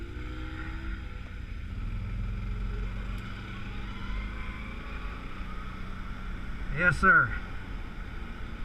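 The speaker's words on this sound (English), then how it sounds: "Jeez, what a smooth riding ATV this is." An ATV being ridden, with big lugged tyres and power steering, gives a steady, close, low engine rumble throughout, with a voice talking over it and a brief rise near the end.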